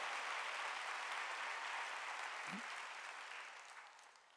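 A large church congregation at a Wednesday worship service claps in a broad, sustained roar that starts full and slowly tapers toward the end. It sounds somewhat distant and reverberant.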